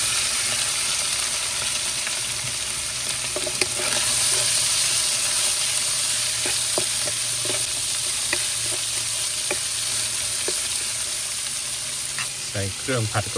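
Steak stir-fried in a wok with holy basil seasoning sizzles steadily and loudly, a continuous hiss with scattered clicks of stirring and a few spatula scrapes near the end.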